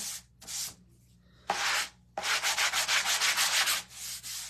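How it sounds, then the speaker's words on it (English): Sanding a Halloween door hanger: harsh abrasive rubbing in short bursts, first two brief strokes, then a long run of rapid rhythmic back-and-forth strokes, loud and close with no talking. "I'm going to give this a quick sand. Sorry, cover your ears."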